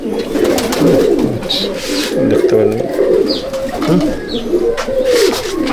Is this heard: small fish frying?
no